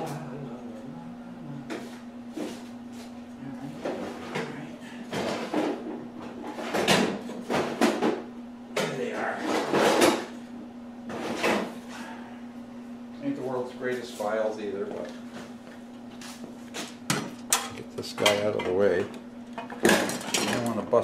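Drawers slide open and shut with repeated clattering knocks and rattles while someone searches a workshop for a file, mixed with intermittent talk and humming over a steady electrical hum.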